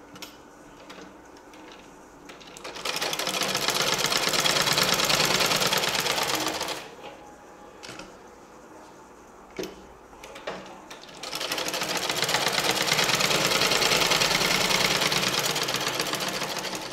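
Domestic sewing machine stitching the neckline of a churidar, two long bursts of rapid mechanical whirring stitches separated by quieter pauses with faint handling clicks, close and loud.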